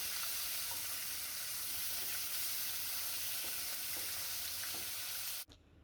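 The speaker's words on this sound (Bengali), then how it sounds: "এখন আমি মাছগুলো উল্টে দিব।" Sarputi fish lightly frying in a pan for a curry makes a steady, even sizzle that runs unbroken for several seconds, then cuts off abruptly near the end.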